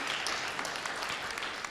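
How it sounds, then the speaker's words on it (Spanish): Audience applause at a book presentation, a dense, even wash of many hands clapping at moderate volume, steady throughout. "quiero que le brinden también un fuerte aplauso"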